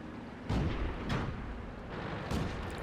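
Shells slam into a tank in World of Tanks, three sharp booming impacts spaced about a second apart over a low rumbling battlefield background, close and loud.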